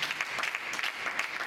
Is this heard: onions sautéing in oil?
no